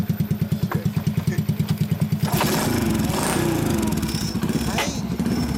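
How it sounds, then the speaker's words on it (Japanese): A Honda Super Cub 90 (85 cc) motorcycle engine putters in a quick, even idle rhythm up close, then revs into a louder, rougher continuous roar. "エンジン音聞かせてもらえる？"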